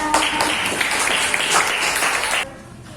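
Classroom group clapping together after a science presentation, a dense steady patter of many hands at close range that continues for about two and a half seconds and then cuts off abruptly.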